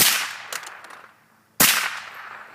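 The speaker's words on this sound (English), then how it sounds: "Aim at the target, pull the trigger, and fire." Two sharp firearm gunshots at a shooting lesson, the first followed by a few quick smaller cracks and a decaying tail, the second a loud close blast about a second later, with no talk.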